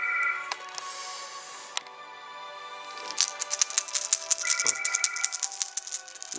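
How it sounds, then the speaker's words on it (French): A mobile phone ringtone plays a repeating electronic melody, clear and fairly close, breaking into rapid tinkling chime notes toward the end. "il y a le téléphone, il y a son portable qui sonne"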